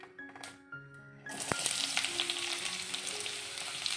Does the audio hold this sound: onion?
yes